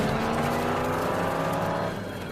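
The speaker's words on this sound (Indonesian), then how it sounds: "mobil itu langsung kabur dengan modifikasi ala Jason" A car in the horror film Friday the 13th speeds away with a loud, steady engine roar that fades slightly at the end, heard alone without speech.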